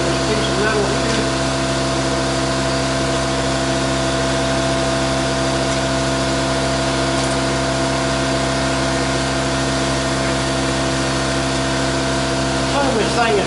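An air compressor runs steadily and loudly throughout in a shop beside a new plasma cutter, a constant mechanical drone with no pauses.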